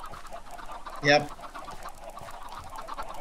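A Minecraft chicken gives one short, sharp cluck partway through, loud against steady game background noise, while someone briefly speaks.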